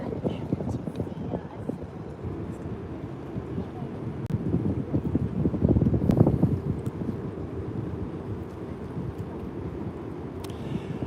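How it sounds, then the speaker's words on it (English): Strong wind buffets the microphone in a continuous low, rumbling roar that swells and fades in gusts, as the Disney Magic cruise ship sets sail from Liverpool. "It's incredibly windy, so I'm trying to cover the mic as much as I can do."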